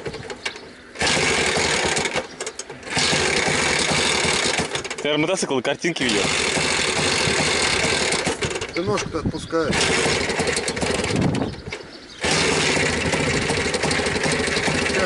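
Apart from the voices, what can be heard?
tractor engine idling and revving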